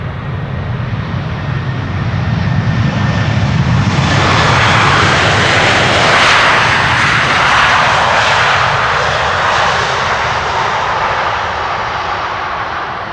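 An airliner lands at Amsterdam Schiphol, its engine noise swelling into a loud, broad roar of thrust reversers mid-way, then slowly fading as it slows down the runway.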